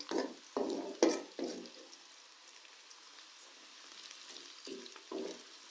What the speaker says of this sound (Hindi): अदरक लहसुन के पेस्ट को प्याज के साथ भूनते हुए